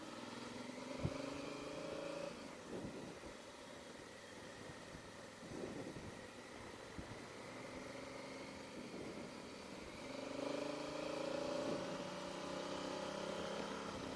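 A motorcycle with its engine guards removed runs steadily under way, a continuous droning engine note with a slight rise in pitch and loudness toward the end, no voices.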